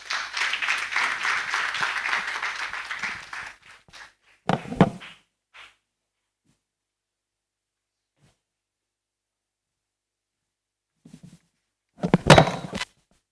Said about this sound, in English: Another round of applause to the Vice Chairperson, EABC.